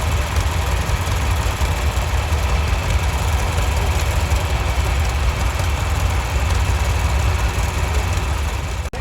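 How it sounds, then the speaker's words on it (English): A John Deere 4020 diesel tractor running in a farm days parade, a loud steady low engine rumble with a rough knocking idle throughout. "Next we have a 4020 diesel."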